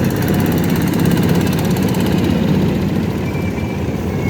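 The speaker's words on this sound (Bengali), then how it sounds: "এখন ইঞ্জিন দিয়ে চলতেছে সাম্পান।" A sampan boat's engine runs steadily and loudly up close at Lichubagan ferry ghat in Kaptai, a continuous droning chug with no pauses and no voices.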